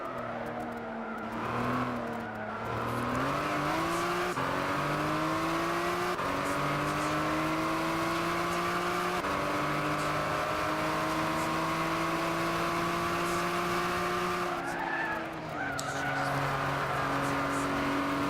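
Race car engines in Gran Turismo 6 on the final lap at Spa Francorchamps, a loud, sustained engine drone whose pitch rises and falls through gear changes, with a brief dip and a tire squeal, no talking.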